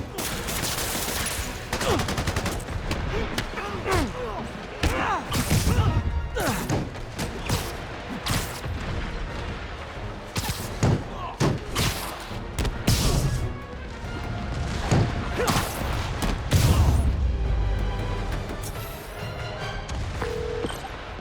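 Dense video game gunfire from Spider-Man, with bursts of automatic fire, single shots, thuds and crashes layered over a loud, busy action soundtrack, continuous and close for the whole stretch.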